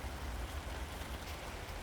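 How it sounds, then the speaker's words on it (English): Steady heavy rain falls on a cool day in Melbourne as a constant dense hiss with low rumble, unbroken and without voices. "it's like non-stop rain today and for the next few days"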